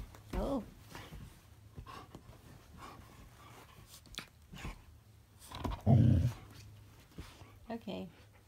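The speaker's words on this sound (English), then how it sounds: "No growling in mommy's bed" A Goldendoodle puppy playing on a bed gives low growls and grumbles in short bursts, loudest near the end, under a woman's close, affectionate talk.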